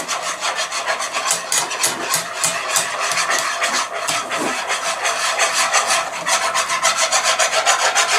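A whisk beats a mixture in a bowl with rapid, steady scraping strokes, close and continuous for several seconds with no one talking.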